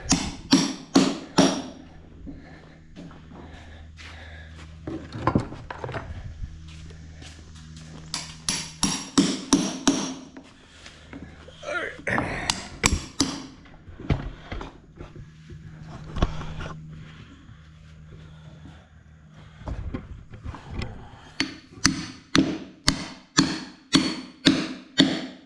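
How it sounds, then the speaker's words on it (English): Claw hammer knocking and prying at a nail buried in an ambrosia maple log, sharp metallic taps in bursts and rapid runs, fairly close, with quiet gaps between. "use the claws on that hammer."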